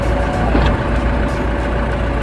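A bulldozer lowering its blade, heard as a loud, steady heavy-machinery drone with a faint whining tone and a brief clunk partway through, all close and continuous.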